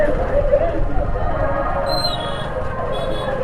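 Continuous babble of many voices surrounds the listener at a crowded Hul maha festival gathering, steady and mid-distance, with a faint whistle-like tone briefly rising above the chatter.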